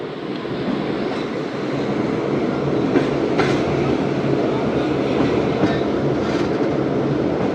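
Passenger train on the Karachi Express route running steadily along the rails, a loud continuous rumble with faint clickety-clack from inside the carriage.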